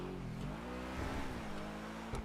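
A car engine in a video game revs, its pitch climbing and dipping as the car accelerates, a continuous loud drone with no talking.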